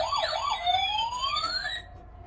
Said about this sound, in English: Lovely police car, white color police car.